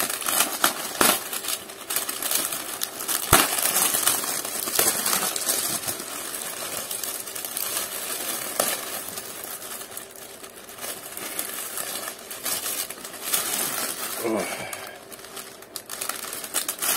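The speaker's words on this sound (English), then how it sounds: "different type of plastic, a cellophane type of plastic" Cellophane-type plastic wrapping crinkled and crumpled by hand at close range, a dense continuous rustle with sharper crackles and snaps scattered throughout, no voices.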